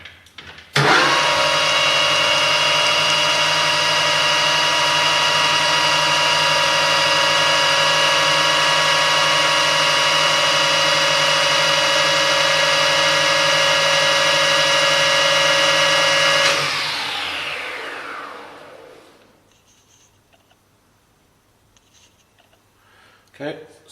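A steady, high-pitched whine of a metal lathe facing the end of a steel bar runs for about sixteen seconds, then spins down and fades to near silence.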